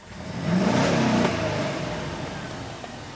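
A Chevy Silverado pickup engine, being diagnosed for a crankshaft position sensor fault, revs hard to full throttle and holds near the top before easing off as the fuel cut-off is reached, loud and steady throughout with no talking.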